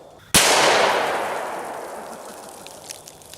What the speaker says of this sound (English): now let's hit it with a pistol round that's moving really fast